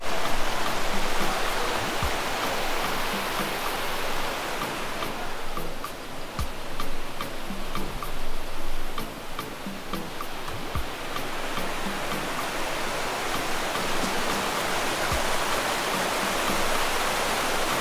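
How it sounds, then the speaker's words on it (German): Waterfall at Plitvice Lakes heard as a continuous broad rushing roar of falling water, steady and fairly faint, with occasional light ticking sounds over it. "hört ihr das Wasser im Hintergrund? Es ist ein Wasserfall, aber man sieht es nicht."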